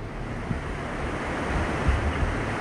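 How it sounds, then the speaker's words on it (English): Unrunnable river rapids on a remote forgotten river rush in a steady, full roar of churning water, close and loud with no voices. "More unrunnable rapid."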